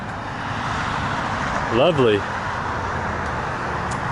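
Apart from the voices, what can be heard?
road traffic passing by a nature trail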